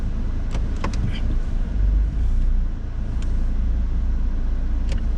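A car pulls away to begin a drive, a low steady engine and road rumble filling the cabin with a few faint clicks and knocks on top.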